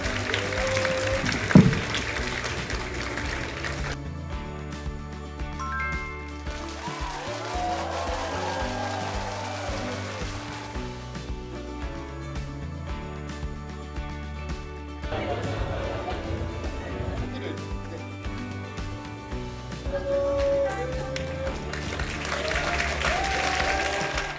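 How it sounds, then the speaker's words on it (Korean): An audience applauds an award winner at an agricultural policy concert, the sustained clapping mixed with steady background music and swelling louder toward the end. "여러분 큰 박수 부탁드립니다"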